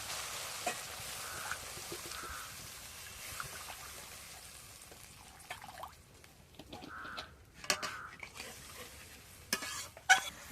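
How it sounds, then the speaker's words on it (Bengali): Water is poured into a hot karai of sautéed spices for an egg and banana flower dish, making a sustained hiss and bubbling sizzle with scattered clinks and a few louder splashes near the end. "ভালো করে কষানো হয়ে গেছে এবার উপর থেকে জল দিয়ে দেবো"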